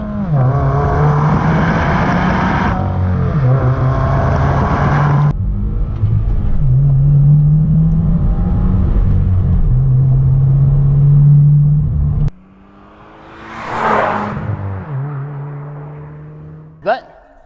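A 2015+ Subaru WRX fitted with a cp-e axle-back exhaust revs loudly and close, engine rising and falling in pitch through several pulls before dropping to a low idle, with one further short blip near the end.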